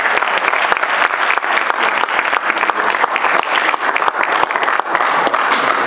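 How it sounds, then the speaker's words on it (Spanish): A large audience at a Venezuelan education and humor event welcomes political comedian Laureano Márquez onstage with loud, dense, sustained applause. The clapping keeps a steady rhythm and is close and full. "reciban con un gran aplauso al comediante político Laureano Márquez"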